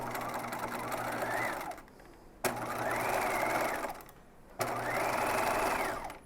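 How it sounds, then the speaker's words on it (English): A sewing machine stitches a dress seam in three steady whirring runs, each building up to speed and stopping, with short quiet pauses between them. "I'm going to sew all the way around at 5/8 of an inch."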